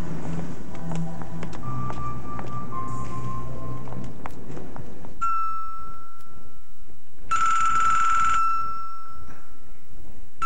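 A telephone rings in a 1990 Mandarin-language TV drama, a sharp electronic ring tone repeating in short bursts across the second half after a stretch of dialogue and movement noise, fairly loud and alone.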